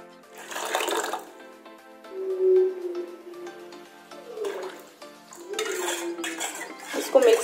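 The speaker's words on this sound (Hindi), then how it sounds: "अब इसमें मैं ठंडा पानी डालूंगी।" Cold water pours into a bowl for gupchup (pani puri) water in a home kitchen, with several splashing bursts and some clinking of a spoon or dish in between, close and moderately loud.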